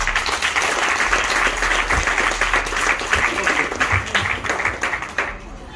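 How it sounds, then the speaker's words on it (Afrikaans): A church congregation at a Souls For Jesus Ministries service applauds a singer named Sanger with sustained, dense clapping that holds steady before tapering off near the end, with faint voices mixed in. "klap vir Sanger"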